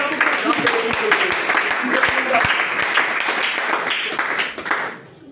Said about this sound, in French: Acclamons d'abord pour le Seigneur.